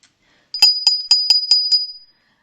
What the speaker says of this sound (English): I found this little bell that used to belong to my grandma.